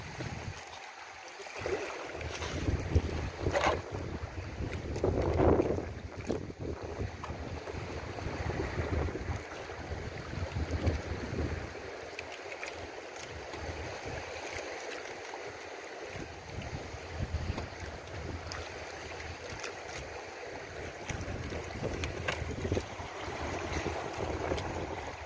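A fishing boat rides on open water in steady wind, giving a continuous broadband rush of wind and water with low rumble, fairly loud and close, and no talk.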